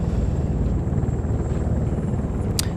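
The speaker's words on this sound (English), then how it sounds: "This helicopter is really fast." A helicopter in the military game Arma 3 flies steadily nearby, its rotor chop and engine drone loud and unbroken throughout, with a brief high whine near the end.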